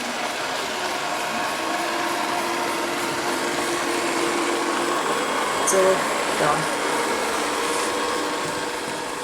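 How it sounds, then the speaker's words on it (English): A Ecovacs Deebot M81Pro robot vacuum cleaner runs on carpet, picking up talc and hair, giving a steady, moderately loud whirring hum throughout while someone talks over it. "these robot vacuum cleaners are especially useful and popular in pet households"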